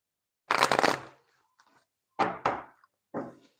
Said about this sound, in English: Let me shuffle just a little bit.